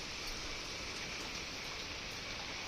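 Rain pours steadily onto a house rooftop, a continuous even hiss of falling water with no breaks or voices.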